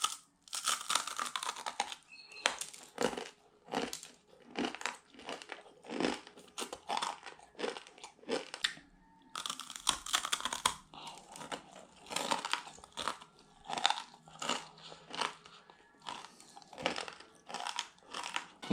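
Crunchy Balinese snacks bitten and chewed close to the microphone, a string of loud crisp crackling bites and crunches in irregular bursts with short pauses, no talking.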